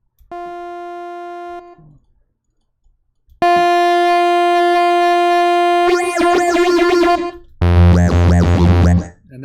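A buzzy synth tone holds, then swells into a warbling, wobbling dubstep growl that morphs rhythmically before ending on a heavy, distorted bass blast.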